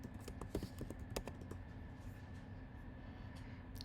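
Quick bursts of keystrokes tapped on a computer keyboard to enter labels, soft and close, tapering off into quiet room hiss.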